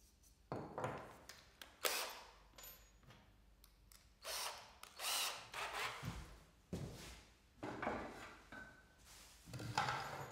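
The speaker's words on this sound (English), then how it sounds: "drill right through the stop and into the board with a pilot drill." A power drill whirs in a series of short, close bursts, stopping and starting repeatedly as it bores a pilot hole through a wooden stop into a board.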